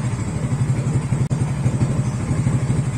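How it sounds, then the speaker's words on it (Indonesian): Motorcycle engine idling steadily in a rapid, even pulsing rhythm, close and fairly loud, with one brief dropout partway through; the bike is fitted with a full-wave charging system and regulator. "Oke, sekarang saya matikan mesinnya ya."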